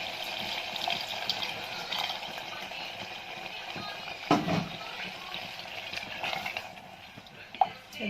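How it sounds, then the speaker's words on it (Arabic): A small splash of water poured into a cooking pot with a chicken stock cube, a soft gush of liquid in a quiet kitchen with one brief louder splash partway through. "ازودها بقى شويه ميه صغيرين كده"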